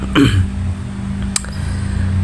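One nearby cough from a person with a cold blending into a brief throat clearing, then a short click, all over a constant low electrical hum.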